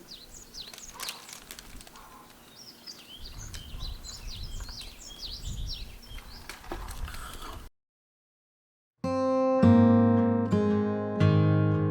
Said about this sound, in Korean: 새소리 들리시죠?